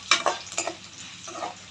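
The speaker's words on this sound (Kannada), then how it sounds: "ಉದ್ದಿನಬೇಳೆ, ಸ್ವಲ್ಪ ಜೀರಿಗೆ ಮತ್ತು ಒಣಮೆಣಸಿನ್ಕಾಯಿ ಇಷ್ಟು ಸ್ವಲ್ಪ ಸಿಮ್ಮಲ್ಲಿ ಇಟ್ಕೊಂಡು ಫ್ರೈ ಮಾಡ್ಕೊಳ್ಳಿ" Urad dal, chana dal, cumin and dried red chillies fry on low heat in a small pan, with a faint sizzle and a few sharp clinks and scrapes of a spoon stirring, near and brief, without speech.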